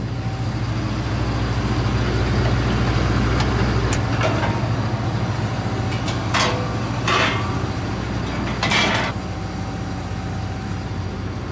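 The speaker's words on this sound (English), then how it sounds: "That's a small pump and a lot of diesel." A small diesel fuel pump runs steadily with a continuous low hum while refueling farm equipment at harvest, joined by a few brief metallic knocks and clanks partway through.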